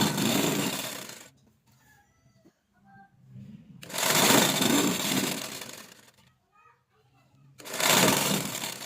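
A sewing machine stitches a side strip onto a shirt in three loud, close bursts of rapid whirring, separated by quiet pauses with faint handling rustles.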